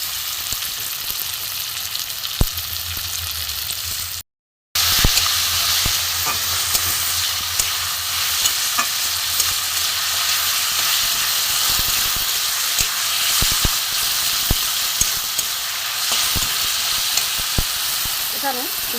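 Four large onions and chopped chicken frying in a pan, a loud, dense sizzle running throughout with frequent clicks and taps of stirring, one brief cutout near the start, no speech.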